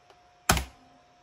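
A single firm press of the Enter key on a computer keyboard while resetting a Dandanator, one sharp close clack standing alone after a faint earlier tap.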